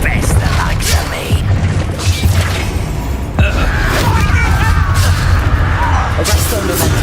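A Confringo fire spell blast in Hogwarts Legacy gameplay, heard as booming, crashing impacts with a sharp crack under loud game combat noise and a shouting voice.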